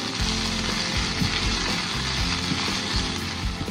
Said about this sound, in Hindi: अब इसमें हम डालेंगे कूटा हुआ जिंजर एंड गार्लिक